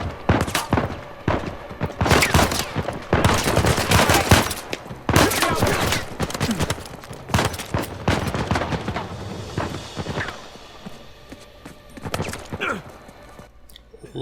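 Gunfire in Uncharted 4 during the Lights Out chapter, with repeated loud bursts and volleys of shots coming from several directions, easing off toward the end.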